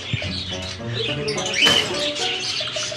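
Parakeets and African lovebirds in an aviary chirp and tweet in a dense, busy chorus of short calls, close and fairly loud, with a brief burst of brighter squawking in the middle.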